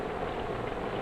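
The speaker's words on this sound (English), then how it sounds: "Rain, rain. It soaks into the soil." Steady rain falls on a garden, a dense even hiss of drops on soil and leaves, faint and continuous with no voices.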